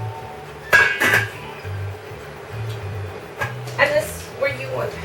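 A metal lid goes onto a pan of chile rellenos made with ground turkey and cream cheese, giving a few clinks and clatters over a low stovetop hum, while someone talks throughout.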